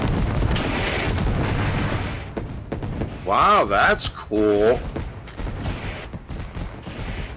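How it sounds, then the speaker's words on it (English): Fireworks are set off at the start of a race, a rapid crackling run of booms that carries under excited talk and a commentator's voice. "they shoot off fireworks at the beginning of the race"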